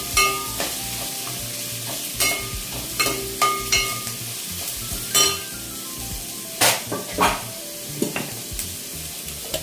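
Onions and green chillies fry in hot oil for chicken biryani, a steady sizzle with scraping stirs and occasional clinks of a utensil against the pan, close and with no talking.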